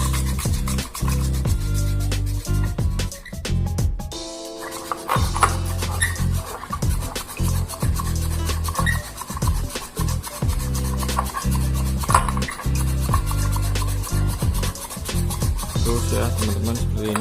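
A frothing dalgona coffee mixture whisked vigorously by hand in a bowl: continuous, close, rapid rasping and scraping strokes with brief pauses, going on at length without talk.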